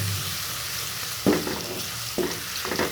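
Freshly crushed garlic frying in a pan of dal gives a steady soft sizzle, broken by a few scraping stirs of a spoon against the pan, close and without talk.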